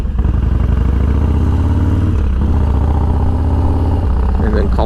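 A Harley Dyna motorcycle engine runs loud and steady throughout, a thick low rumble with a brief dip in the middle as the throttle rolls off and back on, close by.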